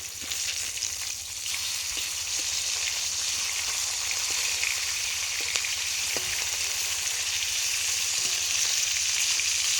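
Fish pieces frying in hot oil in a pan give a steady, dense sizzle that runs unbroken throughout, with a few soft ticks and pops over it and no voices.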